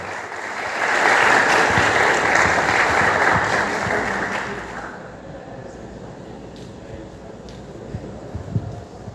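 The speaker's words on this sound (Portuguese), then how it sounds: "salva de palmas para Lucas Araújo." Applause from an audience at a university event, swelling into dense clapping for the first few seconds, then fading to a quieter room with scattered sounds.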